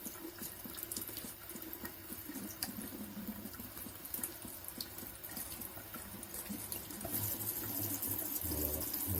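Water runs steadily through a small instant water heater, a faint, continuous trickling flow that grows slightly fuller toward the end.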